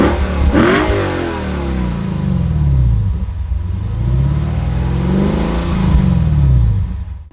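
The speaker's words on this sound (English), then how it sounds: "the exhaust of this car, I really think it sounds good." A Lexus RC F V8 exhaust revs repeatedly with rising and falling engine pitch, loud and close, with a sharp throttle blip near the start and no talking.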